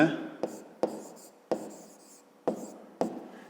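Handwriting during a school geometry lesson on pyramid edges: six sharp strokes or taps at uneven intervals, each fading quickly, close and fairly quiet, with a faint voice in the background.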